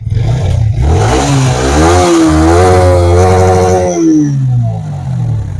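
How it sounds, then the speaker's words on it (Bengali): A Yamaha R15 V3 motorcycle engine revs up loud and close, its pitch climbing and holding through a sustained throttle blip before falling back to idle. "গাড়ির সাউন্ড শুনুন"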